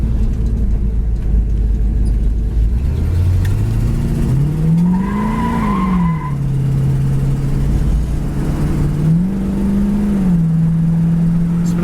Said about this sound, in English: Going down the road, 60 mile an hour, nice and straight.